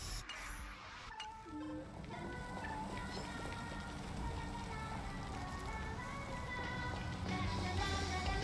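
Steady video game rain hisses and patters throughout at a constant moderate level, with a few tonal game-like sounds layered faintly above.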